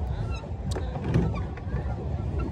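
Swan at a lakeshore giving honking calls, a few short nasal honks rising over steady outdoor wind and water noise, moderately near.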